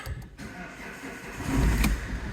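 Car that has been slow to start, suspected of a faulty thermostat, cranks and fires up after warming, a short whirring crank followed by a louder low engine catch settling into idle, close by.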